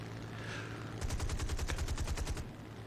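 Spitfire machine guns in War Thunder fire a single rapid burst of about a second and a half, loud and close with sharp evenly spaced reports, alone without talk.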